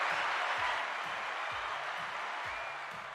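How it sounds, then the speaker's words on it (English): Audience applause at an event where competitors' finishing positions and scores are being announced, a steady wash of clapping across the whole stretch with soft low thumps underneath, slowly fading in level. "You don't have to wait for the applause to fade"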